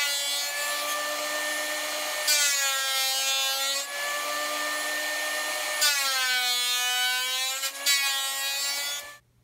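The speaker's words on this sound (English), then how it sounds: "And then we'll go to the sander and we'll see how close we can get to this part here." A power sander works wooden boards for a metal-casting pattern, a steady loud rasping hum with two rising bursts as the wood meets the paper, ending abruptly.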